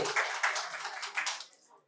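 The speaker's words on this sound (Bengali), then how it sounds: "ওই জন্য একটা জোরে হাততালি" Loud applause from an audience at a quiz competition held at a medical college and hospital, a dense burst of clapping that fades out after about a second and a half.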